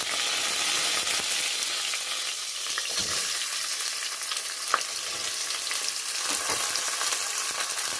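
Chopped onion hits hot oil already flavoured with cumin seeds, producing a loud, continuous frying sizzle with faint crackles and no talking.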